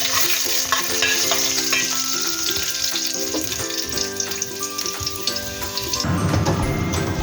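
Garlic stir-fries in a hot pan with a loud, constant sizzle and crackle. Scraping and clinking stir sounds run over it, and the frying grows busier near the end.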